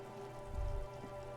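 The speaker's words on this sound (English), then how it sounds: "rain falls on the great city of Revachol" Soft, steady rain patters on the streets of Revachol in Disco Elysium, a faint, even hiss with a low thump midway.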